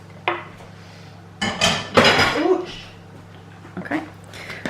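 A spoon clatters and scrapes through a bowl while sauce is mixed into fluffed couscous, in a few close bursts of clinking, with a person speaking briefly between them.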